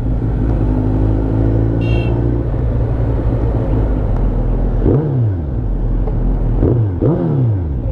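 A Suzuki Hayabusa motorcycle on a city ride in Pakistan gives a loud, steady engine drone close to the microphone, with a brief high toot early on and two sharp rev swells later.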